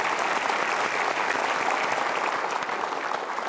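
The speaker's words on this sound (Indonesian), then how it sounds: "Tepuk tangan meriah sekali lagi untuk Gita Mara Atara dan Bapak Mario Teguh." Sustained applause from a large studio audience fills the room, a dense, even wash of clapping that holds steady throughout.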